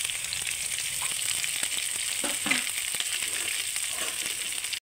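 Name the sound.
peas, green chili and ginger frying in a pan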